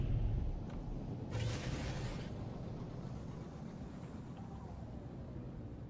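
A spaceship hovers nearby in the video game No Man's Sky, giving a low, steady rumbling drone with a brief airy whoosh rising over it early on.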